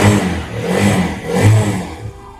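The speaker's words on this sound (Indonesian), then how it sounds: "Dan langsung aja kita geber tipis-tipis" An engine revs in short bursts, rising and falling a few times at close range, with no voices.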